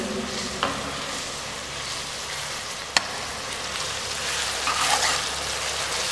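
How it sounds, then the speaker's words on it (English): Onions fry in ghee while being stirred for veg fried rice, producing a steady close sizzle throughout with a few sharp scrapes of the stirring utensil against the pan. "I am stirring in the ghee."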